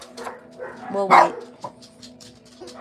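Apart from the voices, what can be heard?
dogs barking and whimpering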